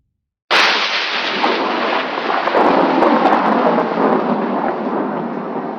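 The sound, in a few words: thunderstorm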